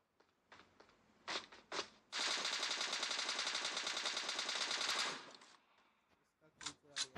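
Rapid automatic gunfire in PUBG Mobile Lite, a loud sustained burst lasting about three seconds, with single shots before and after it.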